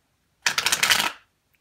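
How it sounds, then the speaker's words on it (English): Tarot cards being shuffled in one quick, crisp riffling burst lasting under a second, close and alone against silence. "One last shuffle, one more shuffle to go"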